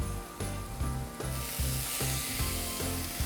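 Chopped garlic hits a hot pan and sizzles steadily, a broad frying hiss rising over rhythmic scraping and stirring with a spatula, close and continuous, while roast duck with orange sauce is being cooked.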